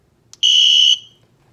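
Handheld flashlight with a built-in alarm lets out a single loud, piercing electronic tone, close and steady for about half a second, then cutting off abruptly after a brief click.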